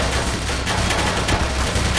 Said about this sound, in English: What was that fucking turret shooting at me?